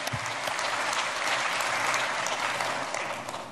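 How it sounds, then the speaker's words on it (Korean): A church congregation applauds newlyweds at a Sunday service, a dense, steady wash of many hands clapping that swells and holds for several seconds. "박수 한번 해줘요."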